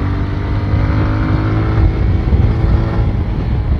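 A 2023 TVS Rider 125 motorcycle rides through traffic, its engine a loud, steady drone with rushing wind noise throughout, no voices.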